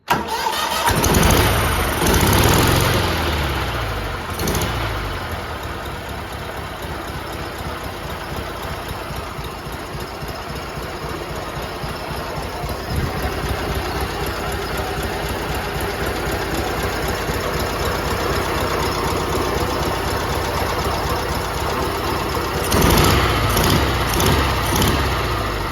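A big riding mower engine starts up and runs on choke with a loud, close, steady chugging drone. It revs briefly near the start and again toward the end.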